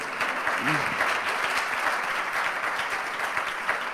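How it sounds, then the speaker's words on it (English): Applause from an audience at an interactive speaking session in the UK, a steady rush of clapping with a brief voice briefly audible early on, fairly close and continuous throughout. "I'm going to pause for applause"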